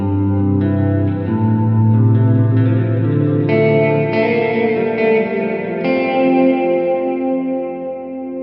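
An electric guitar played through a JHS ambient reverb pedal, sustained chords and notes blooming into a long shimmering reverb tail that washes over each change, loud and alone with no talking.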